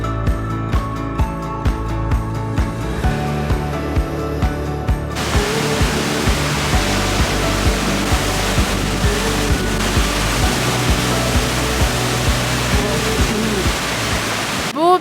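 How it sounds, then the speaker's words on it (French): A huge waterfall roars as a constant loud rushing wash, with other layered sounds over it in the first few seconds before the steady torrent carries on alone. "on est arrivé à la cascade, elle est très jolie, elle est super impressionnante parce qu'elle est vraiment énorme"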